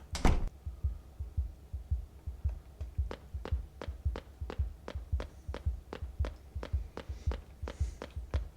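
A steady heartbeat thumps in the video game Streams of Terror, a regular double-pulse rhythm repeating throughout, moderately loud and close over a low hum, with no voices.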